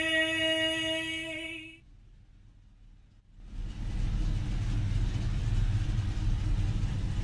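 Several NASCAR Next Gen Cup cars idle on the grid of a racing video game at Texas, a steady low rumble that swells back in after a brief quieter lull and then holds loud and constant.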